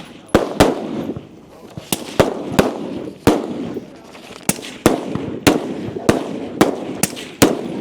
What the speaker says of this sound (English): So for all of the rifle shots, they will be in that prone position.